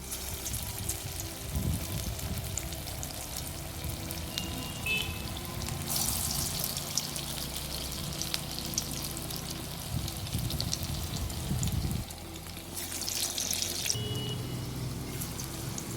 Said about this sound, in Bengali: তেলটা আমার গরম হয়ে গেছে, সেই জন্যই আমি বড়াগুলো দিচ্ছি।